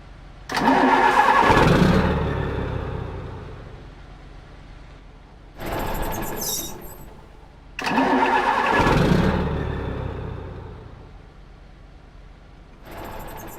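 A Mitsubishi FE 449 truck engine in Euro Truck Simulator 2 cranks and fails to start, with four separate starter bursts, each a few seconds long, separated by short pauses.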